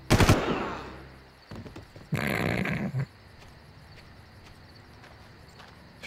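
Bursts of mounted machine-gun fire in the Far Cry video game, a loud rattling volley at the start and another around two seconds in, with quieter game ambience and faint clicks between them.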